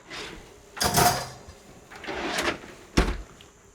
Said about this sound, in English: I'm gonna get it in the oven, 220 degrees C